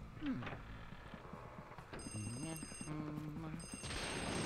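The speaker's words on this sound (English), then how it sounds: "Then you can hear there's a phone ringing in this door." An old-style telephone rings behind a closed door in the video game Luigi's Mansion, a steady electronic trill of repeated rings over quiet game ambience, with no one talking.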